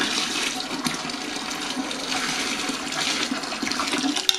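Boiling water poured into a dissolved mixture for a tropical dragon fruit wine's primary fermentation, a steady close rushing pour that runs throughout, fairly soft, with no talking.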